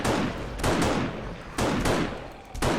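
Automated turrets blast at an incoming zombie horde during Horde Night in 7 Days to Die, firing in rapid, loud bursts that repeat about four times over a few seconds.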